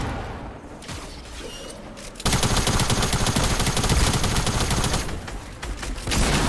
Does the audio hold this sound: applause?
no